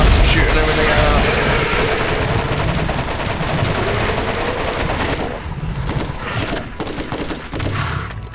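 Sustained rapid gunfire in the Borderlands co-op shooter, dense bursts of shots filling the whole stretch with brief lulls near the end, loud and close, with players' voices faintly underneath.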